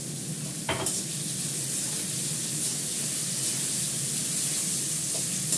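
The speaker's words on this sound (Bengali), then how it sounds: "নাড়াচাড়া করে করে ভালো করে ভাজা করে নেবে" Finely chopped potatoes sizzle loudly and steadily in a pan while being stirred and fried, with one sharp scrape of a utensil early on.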